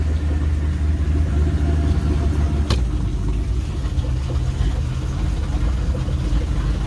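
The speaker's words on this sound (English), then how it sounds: "There she is idling." A steady low idle rumbling from the engine of a 1988 Bayliner 25 ft boat, close and constant, with a brief sharp click partway through.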